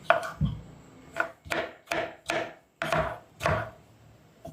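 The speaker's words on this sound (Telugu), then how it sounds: "ఇప్పుడు 2 మీడియం సైజు టమాటాని కూడా కట్ చేసుకుందాం" A knife chops two medium tomatoes on a board in about eight distinct, sharp, evenly spaced strokes, each a crisp thud that fades quickly into a quiet background.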